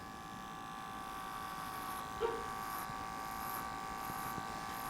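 Hair clippers with a 1/8 inch blade fading a mohawk haircut, a steady close electric buzz that holds even throughout with a faint brief contact sound partway through.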